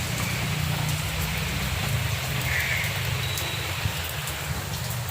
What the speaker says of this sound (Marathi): आज तर भरपूर पाऊस पडतो बघा.